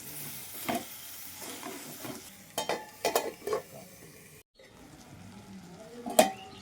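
Olives simmering with melting sugar in a lidded pan, a soft bubbling sizzle with a few clinks and stirring scrapes, then a brief quiet gap before a final sharp clink.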